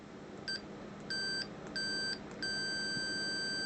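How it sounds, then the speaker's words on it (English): Four loud electronic beeps from a Fluke multimeter on a continuity test, the first short and the rest longer, the last held on, sharp and close with no talk. "definitely a much louder beep"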